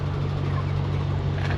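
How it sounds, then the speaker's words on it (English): Chickens cluck close by at a poultry farm in Hereford, the calls faint and scattered over a steady low mechanical hum that runs throughout. "You don't get this close every day, do you, to chickens like this?"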